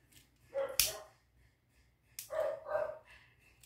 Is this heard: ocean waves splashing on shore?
no